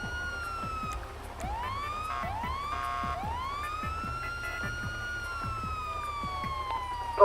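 A police siren in the GTA V roleplay game wails with rising and falling sweeps through the whole stretch, loud and steady over a low engine rumble, with sharp taps scattered across it and no talk.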